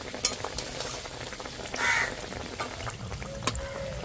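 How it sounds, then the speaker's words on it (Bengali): Potato and flour batter snacks frying slowly over low heat in a pan, a steady close sizzle with a few clinks and crow-like caws from outside in the background. "আস্তে আস্তে করে ভেজে নিতে হবে,"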